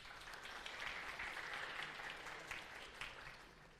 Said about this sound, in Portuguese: Palmas para o Lucas, gente, por favor.